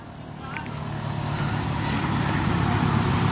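A motorcycle engine roars steadily while climbing an uphill road toward Sapang Bridge, close and continuous, building slightly in loudness, with a low drone underneath.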